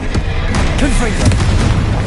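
Hogwarts Legacy's Confringo fire spell bursts with a loud, heavy boom and crackling rumble, layered under a voice during a frantic PS5 battle.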